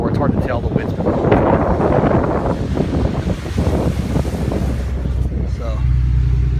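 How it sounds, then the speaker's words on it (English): Strong wind blowing during a snowstorm that dropped over a foot of snow, heard as a loud, steady roaring gust that buffets the microphone for several seconds, with a brief lull in the middle. "The wind's been blowing."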